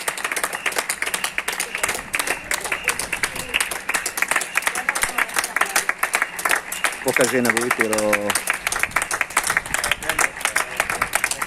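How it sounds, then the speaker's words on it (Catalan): A small crowd gathered outside Sant Joan hospital claps for healthcare staff, with dense, continuous applause close by. A person speaks over the clapping. "persones que han parat aquí davant de l'hospital per fer aplaudiments al personal sanitari"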